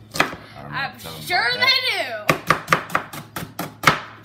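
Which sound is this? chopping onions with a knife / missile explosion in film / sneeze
chopping onions with a knife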